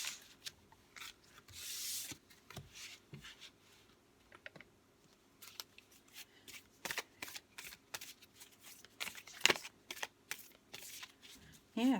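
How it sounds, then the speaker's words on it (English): Oracle cards being shuffled by hand in a quiet room, giving repeated bursts of riffling and sliding card noise with short pauses between handfuls. "Right, I'll just move these out of the way and get some oracle cards."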